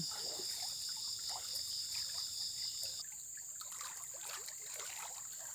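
Tidal water trickles and streams steadily out through an opened sluice, a close, continuous watery flow with faint splashes, overlaid by a high insect-like whine and no talk.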